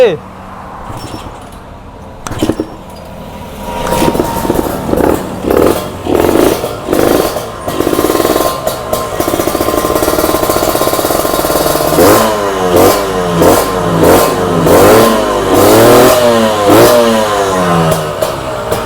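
A Kawasaki Ninja SS motorcycle engine starts with some clattering, then revs repeatedly in rising and falling surges, loud and close. Bursts of the throttle blip over a steady idle.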